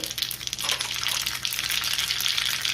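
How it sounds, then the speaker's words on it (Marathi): Fenugreek, mustard and cumin seeds sizzling in a spoonful of hot oil in a small tempering pan for raw mango chutney, a bright crackling fizz with popping that swells and holds steady, close and fairly loud. "त्यामध्ये मेथी दाणे घालूया, त्यातच मोहरी आणि जिरे घालायचे"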